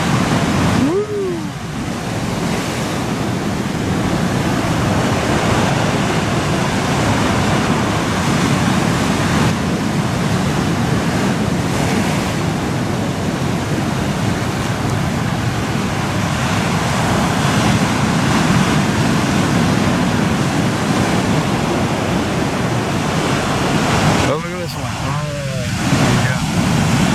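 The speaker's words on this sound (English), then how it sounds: "you like watching the waves, I'll let you watch a little more." Ocean surf at Peggy's Cove rolls in a constant, loud wash of waves and wind, steady and broad throughout with little break, and faint voices briefly at the start and near the end.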